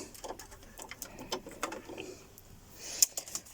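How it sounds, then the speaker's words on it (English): A sewing machine running a zigzag stitch through cardboard, a close, uneven rattling chatter in short bursts with brief pauses. "I'm just going to put it on a simple zigzag stitch and just go down the middle"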